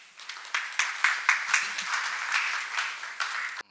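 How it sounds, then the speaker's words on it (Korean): Applause from a seminar audience at an international martial arts center academic session, with separate claps and small bursts rising and falling before it cuts off abruptly. "큰 박수 부탁드립니다"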